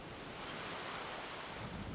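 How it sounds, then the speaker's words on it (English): Waves breaking on a coral reef in the Maldives, a steady, dense wash of surf with wind, continuous and fairly close, no voices. "If you can see like where the waves are breaking, sometimes you'll get really big waves coming in."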